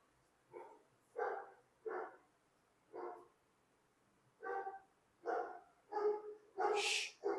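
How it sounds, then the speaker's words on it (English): A dog barks indoors in a series of about ten yaps, sparse at first and then coming faster, moderately near but fairly quiet overall. "my dog is acting up today"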